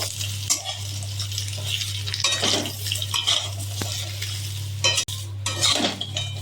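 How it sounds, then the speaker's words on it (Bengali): Mango pieces frying in a pan for a sweet-sour pickle give a steady, close sizzle, with a spoon stirring and scraping against the metal pan throughout over a low electrical hum. "অল্প করে ভেজে নেব।"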